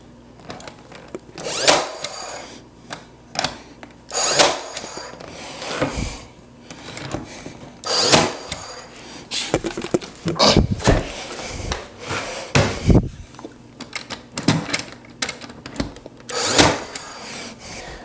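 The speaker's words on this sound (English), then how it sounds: "what I'm doing here is nailing back the original oak trim" Original oak trim is nailed back along oak flooring using long nails, giving a series of sharp, loud impact strikes spaced a few seconds apart, with softer wooden knocks and rubbing between them.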